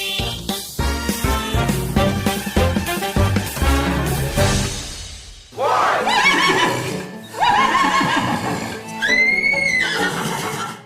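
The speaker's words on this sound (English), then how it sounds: "That is a truly distinctive sound, a horse whinnying" A horse neighs and whinnies loudly and close by in a few drawn-out, shrill calls, following a dense stretch of music at the start.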